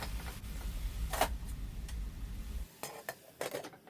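Spices and garlic paste are stirred in a pot for mansaf, giving a close run of scraping and clinking spoon-on-metal strokes over a soft sizzle, with no voices.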